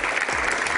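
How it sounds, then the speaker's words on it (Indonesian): A television studio audience gives a short burst of dense, steady applause that fills the room evenly from start to finish. "Berikan tepuk tangan meriah untuk Ibu Irma."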